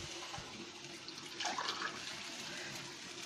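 Hot water poured into a pot of bhuna khichuri over low heat: a faint, brief splash and gurgle in the middle of a quiet, low hiss, with no talking.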